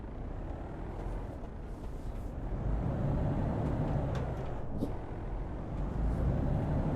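A Mercedes-Benz Actros truck with a split-shift gearbox drives in Euro Truck Simulator 2, its engine a steady low drone that swells slightly partway through and stays loud and continuous.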